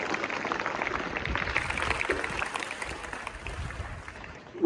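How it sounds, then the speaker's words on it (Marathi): Students applauding at a school activity day, a moderate burst of clapping that fades gradually over several seconds, with a faint murmur of voices mixed in. "या सर्व विद्यार्थ्यांसाठी एकदा जोरदार टाळ्या."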